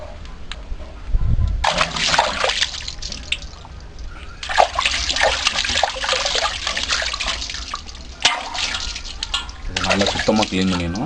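Raw quail being washed clean by hand for a home-made grill, with water splashing, running and dripping in irregular bursts close by, and a voice speaking over it.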